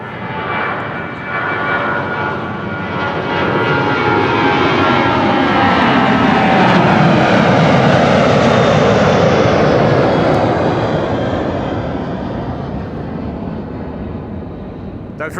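An airliner departing Amsterdam Schiphol Airport on an overcast, hazy day roars loudly as it passes. Its broad engine noise rises over the first few seconds, peaks in the middle with a sweeping, shifting tone, then slowly fades.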